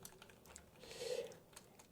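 Keys clatter on a computer keyboard while HTML image tags are typed, a quiet run of irregular clicks close by that bunch up into a denser patch midway, with no talking over them.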